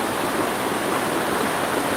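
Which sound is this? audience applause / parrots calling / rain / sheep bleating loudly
rain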